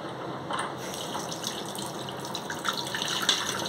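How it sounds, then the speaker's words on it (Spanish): Tap water runs steadily from a bathroom sink mixer faucet to cool a heated part removed during repair, a continuous close gushing stream with no talking. "abrimos un poco el agua caliente o el agua fría"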